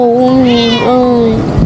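A cat lets out one drawn-out meow, loud and close, with a wavering pitch that dips and rises before trailing off over faint background noise.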